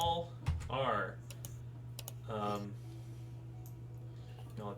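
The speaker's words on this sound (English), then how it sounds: "I'm typing something down." Keystrokes on a computer keyboard tap along quietly under a steady low hum, with someone speaking in short bursts over them.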